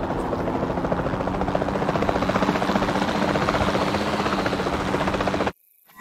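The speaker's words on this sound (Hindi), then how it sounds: "Is to take a capture team helicopter. You can trank it from the air." The capture team helicopter in the video game Jurassic World Evolution 2, a loud steady rotor drone with rapid blade chop that holds constant for several seconds, then cuts off abruptly.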